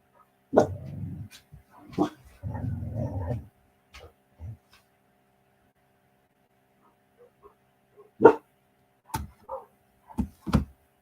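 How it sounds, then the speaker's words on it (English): Dogs bark in loud, separate bursts, a short run of yaps early on, then scattered barks after a long pause, with someone talking between them. "If these dogs don't stop today."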